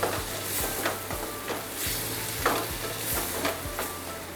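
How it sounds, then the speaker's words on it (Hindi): Garlic ginger paste is stirred into a pan of rajma masala frying over medium heat: a continuous, close sizzle broken by repeated scraping strokes of the spoon, with no voices. "और अब हम इसमें शामिल करेंगे 1 टेबलस्पून लहसुन अदरक का पेस्ट और इसे भी मिक्स कर लेंगे अच्छे से।"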